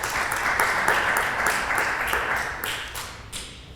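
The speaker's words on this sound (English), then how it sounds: "tell me what the clapping is about" Audience applause at an Oxford Union Q&A, a dense steady clapping that fills the room and stays loud for several seconds before thinning slightly toward the end.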